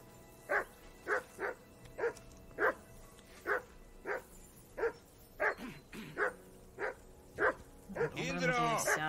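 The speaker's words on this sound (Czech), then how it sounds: "pískni na toho psa, ať už přestane štěkat" Repeated steady barking from a dog in the medieval game Kingdom Come Deliverance 2, a dozen clear close barks at regular intervals, with speech starting over the last moment.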